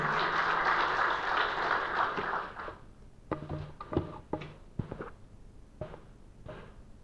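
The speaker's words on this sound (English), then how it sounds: "With a round of applause, please welcome His Excellency." A conference audience at a climate action forum in Bangladesh applauds to welcome an ambassador, a dense burst for under three seconds that breaks into a handful of scattered individual claps before fading.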